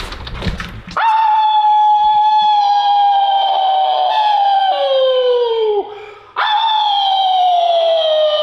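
Person imitating a wolf by howling out a front door, with a long sustained howl sliding slowly downward, a short break, then a second loud howl rising again, close and alone.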